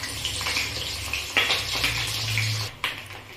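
Eggs frying in refined oil in a wok on a gas stove, a close, steady sizzle broken by a few louder spatters and stirring scrapes.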